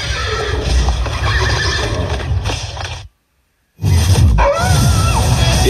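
Horses neigh and whinny loudly with hoof clip-clop in a country radio station ad set in a barn, a dense roar of whinnies that cuts out briefly to silence before resuming.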